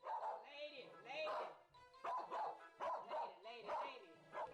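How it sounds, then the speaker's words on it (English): Agitated dog repeatedly barking and yipping at people, a series of sharp barks close by in quick bursts, mixed with overlapping voices of people talking and calling over it. "She has started to bark at everyone incessantly"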